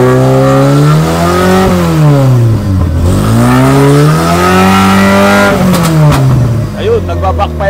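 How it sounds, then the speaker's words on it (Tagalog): An owner type jeep engine with a faulty engine is revved loudly up and down in long swelling sweeps, with popping backfire bursts near the end, close and prominent. "Pagalitin nyo nga po makina."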